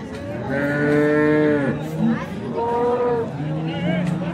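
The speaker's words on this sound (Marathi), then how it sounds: "जर्सी आहे ही" A Jersey cow at the Sangola cattle market lows loudly and close by: one long drawn-out moo, then a second, shorter call after a brief pause.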